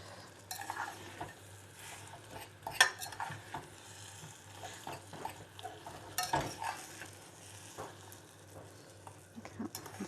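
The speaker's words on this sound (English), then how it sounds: "that's most of the butter cut down" A utensil scrapes and taps as butter is cut down in a pan while slowly melting for gingerbread people, with soft irregular clinks and a few sharper knocks, close and fairly quiet.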